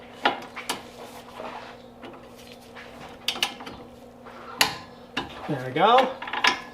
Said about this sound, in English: so I'll go ahead and torque those down.